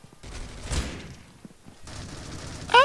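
Gunfire in the mobile shooter game Critical Ops: a loud burst of shots near the start, then a longer stretch of dense, rapid firing, with a rising electronic tone at the end.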